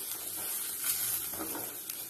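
Grated carrot hitting rice that is frying with onion in a hot pan, making a loud, close hiss and crackle with light stirring scrapes through the short stretch.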